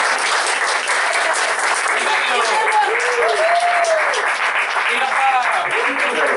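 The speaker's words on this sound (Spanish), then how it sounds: "Un aplauso entonces para Martina, Antonella y Alexis." Sustained audience applause after a book talk about Tarantino at a Spanish-language event, loud and even across the whole stretch, with voices and cheering tones mixed into the crowd noise.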